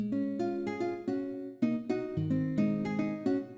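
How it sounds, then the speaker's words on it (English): A dry nylon guitar preset in FL Studio, without chorus, picks a quick sebene melodic line of crisp plucked notes in a steady rhythm, moderately soft and alone. "Before, without the fruity chorus, sounds like this."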